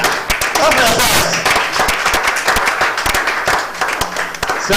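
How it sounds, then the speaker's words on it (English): A large audience at a live youth talent final claps loudly and steadily, with a thick wash of hand claps and crowd noise and some voices mixed in throughout. "Clap for yourselves."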